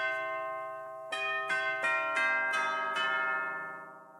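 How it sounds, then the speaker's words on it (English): Sampled tubular bells from Native Instruments Komplete 14 played in Logic Pro ring out as a descending series of six clear, resonant strikes, each note sustaining and overlapping into a long shimmering decay. "Got tubular bells as well."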